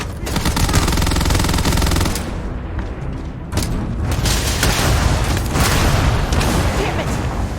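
Sustained, dense video-game gunfire from Starfield: rapid automatic bursts and booming shots piling up loudly and continuously, with a short lull near the middle.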